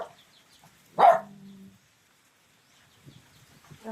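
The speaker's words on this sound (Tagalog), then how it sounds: "Yung aso namin." A single loud dog bark from a farm dog at a rural countryside home, close to the listener, with a short tonal tail, followed by quiet stretches and faint later sounds.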